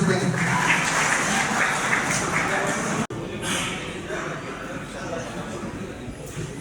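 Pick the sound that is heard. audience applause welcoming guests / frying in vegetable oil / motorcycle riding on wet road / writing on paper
audience applause welcoming guests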